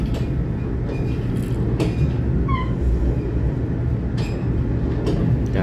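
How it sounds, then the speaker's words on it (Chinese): A PP Tze-Chiang express train stands at Taipei station, its electric locomotive humming steadily with rail rumble, and brief clanks and a faint squeal rise above the constant drone. "看好频道 PP 自强号，在台北站准备行了"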